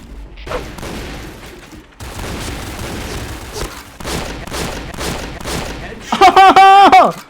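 M1887 lever-action shotgun shots in the Point Blank online shooter, loud booming blasts amid busy game effects, ending in a burst of rapid, ringing tonal sounds.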